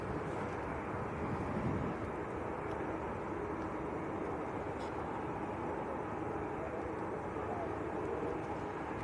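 Aer Lingus Airbus A330 airliner at Manchester Airport, a steady broad jet roar rumbling on throughout with a slight swell near the start, heard from a distance and unbroken by talk.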